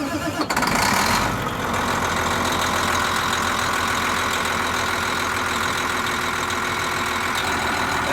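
A bus engine cranks over and catches within the first second or so, then settles into a steady, loud, rumbling idle that continues unbroken to the end.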